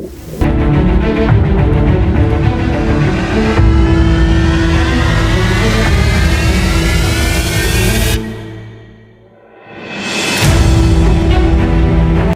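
Motorcycles roar close by in a farmers' motorcycle march in Singhiawali village, Punjab, their engines revving and rising in pitch. The sound fades briefly, then another engine swells back loud.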